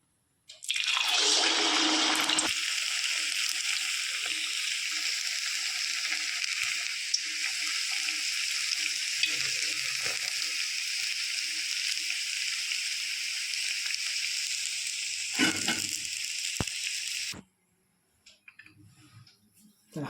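Sabudana vadas deep-frying in hot oil give a loud, steady hiss and bubbling sizzle that runs on without a break, then cuts off sharply near the end, leaving quiet handling noises.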